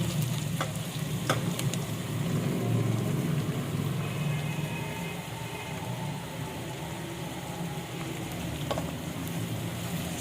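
Ridge gourd (turai) frying in hot oil with cumin seeds makes a continuous close sizzle, with occasional sharp clicks of a spoon against the pan and a faint hum underneath, no talking.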